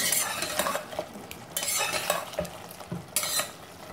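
Cumin and crushed cardamom stirred into hot oil for a Sindhi-style mutton curry, with intermittent scraping and clinking of a spoon against the pan over a light sizzle, no voices.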